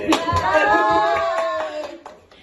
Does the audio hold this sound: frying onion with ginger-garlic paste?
no